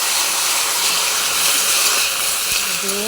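Potatoes and eggplant dropped into hot oil with cumin and bay leaves, giving a loud, steady sizzle and hiss that continues throughout, with a brief clatter near the end.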